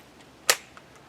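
An AB-10 pistol gives a single sharp, close mechanical click when the trigger is pulled without firing, followed by faint small handling ticks in a quiet room.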